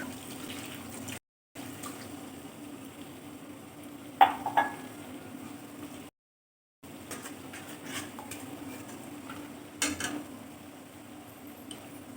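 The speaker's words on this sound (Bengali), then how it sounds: "মশলাটা দিয়ে আমি একটু নেড়ে চেড়ে নিচ্ছি।" A spice mixture stirred in a cooking pan for raw-banana malai kofta curry gives soft scraping and clinking of a spoon against the pan, with a few sharper knocks, over a faint background hiss.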